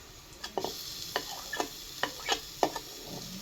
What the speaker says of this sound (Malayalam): അതും കൂടി ഇട്ടിട്ട് വഴറ്റാം.